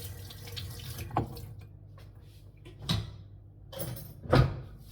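Dishes being washed with soap in a sink under a running tap: a low steady stream of water with three or four brief clattering knocks of dishware, fairly close, no talk.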